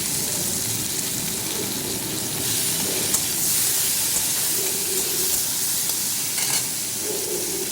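Tomatoes dropped into a pan of frying potatoes for a vegetarian curd cauliflower dish give a steady, close, loud sizzle and hiss that runs unbroken throughout, with faint stirring scrapes and no talking.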